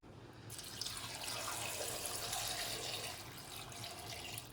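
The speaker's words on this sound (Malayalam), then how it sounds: "ഇനി നമുക്കിത് വെള്ളം ഒഴിച്ച് ഒന്ന് വേവിച്ചെടുക്കണം" Water pours steadily into a cooking pot of tapioca in a continuous splashing stream, close and fairly soft, with no talking.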